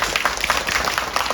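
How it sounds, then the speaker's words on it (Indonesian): An audience at a poetry evening marking a century of Pramoedya Ananta Toer claps together in a brief, close burst of applause with dense, overlapping hand claps. "Tepuk tangan dulu untuk Kediri sama-sama."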